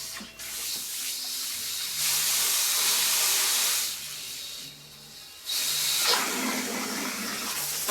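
Water spraying while a car is washed, a loud, steady rushing hiss that swells and dips as the stream shifts, with no voices.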